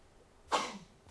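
A single sharp sneeze bursts out suddenly, loud and close, then trails off into a brief breathy tail in an otherwise quiet room.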